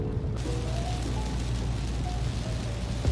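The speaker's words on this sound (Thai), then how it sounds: "ตอนนี้ฝนตกมากนะครับ คือขับนี่แทบมองไม่เห็นเลย" Heavy rain pours around a moving car during a drive, a loud continuous roar of water on the body and road, with faint tonal tones drifting through the wash.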